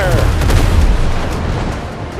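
Heavy ship cannon shots in a naval combat video game, with deep booming blasts that merge into a sustained low rumble through most of the stretch, loud and close.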